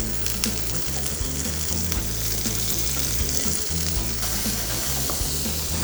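Bacon frying in a hot pan that had just browned button mushrooms in oil, a loud close sizzle and crackle running steadily, with occasional stirring scrapes and no voices.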